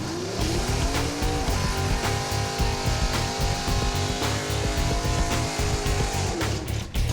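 A small-block drag racing car drives out of the hole rather than launching, with a loud, sustained engine howl that stays heavy and constant, with a slight drop near the end.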